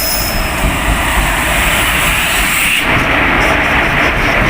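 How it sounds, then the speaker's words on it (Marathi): Konkan Kanya Express pulling into Sangameshwar station, a loud, close rumble of rolling wagons and wheels with a high squeal fading midway, steady throughout. "आपली कोकण कन्या एक्सप्रेसचे आगमन संगमेश्वर रेल्वे स्थानकावरती होत आहे"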